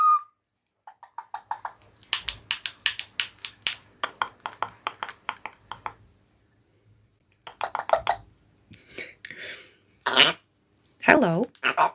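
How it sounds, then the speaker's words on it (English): A baby African grey parrot makes short repeated coughing or barking sounds in quick clusters, with pauses between bursts, then higher squeaky calls near the end. "Are you barking or are you coughing?"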